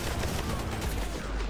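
Rapid automatic gunfire from the video game Bright Memory, a dense continuous rattle of shots lasting the whole moment, loud and close.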